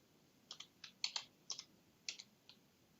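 Keys on a computer keyboard clack in a short, quiet burst while a formula goes into a spreadsheet cell, about a dozen light taps in an uneven rhythm over a faint background hiss.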